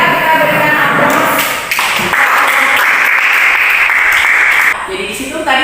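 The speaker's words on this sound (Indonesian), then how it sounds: "Kita berikan aplaus." Classroom applause from a group of students, a dense burst of hand clapping close by that fills the room for several seconds, with a voice speaking over it before it thins out.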